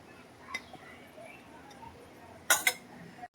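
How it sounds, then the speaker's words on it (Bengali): A lid goes onto a cooking pan of katla fish curry with two quick metallic clinks close by, after a quiet stretch with a few faint kitchen taps. "এই যে ঢাকা দিয়ে দিলাম,"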